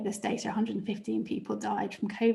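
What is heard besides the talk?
None of the usual background noises is heard.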